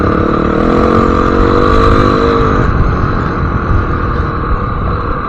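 A motorcycle is ridden over rocky ground at El Dorado with no clutch oil. Its engine drones loud and close, with a steady revving tone for the first few seconds that blends into a constant rush of wind and road noise.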